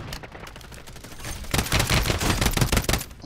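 Rapid video-game gunfire during a trios match, starting as scattered distant shots and then turning into a loud, dense burst of automatic fire over the second half.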